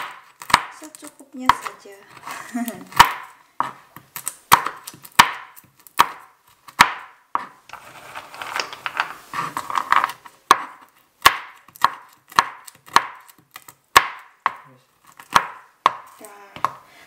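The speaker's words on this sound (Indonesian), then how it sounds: "Potong-potong almond dulu." A knife chopping almonds on a board, close and crisp, with steady rhythmic chops repeating about every second. A brief, soft bit of speech falls in the middle.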